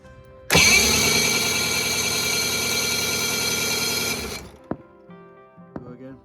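A Mercury 650 65 hp outboard starts up and runs loud and steady at idle for about four seconds, then cuts off, leaving a couple of brief knocks and faint handling sounds.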